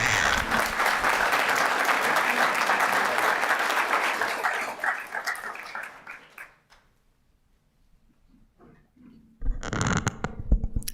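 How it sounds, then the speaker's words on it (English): Audience applause at a town council meeting, a dense steady clapping that fills the first six seconds before fading out, followed by a short quiet gap and then a fresh burst of clapping near the end. "Another round of applause."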